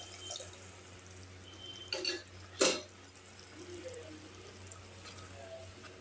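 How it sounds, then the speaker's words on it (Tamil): Water is poured into a simmering pot of banana blossom kuzhambu in a home kitchen, with a couple of short splashy pours and trickles over quiet background hiss. "கொஞ்சம் தண்ணி விட்டுக்கலாங்க."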